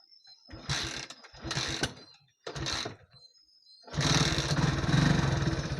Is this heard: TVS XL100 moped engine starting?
yes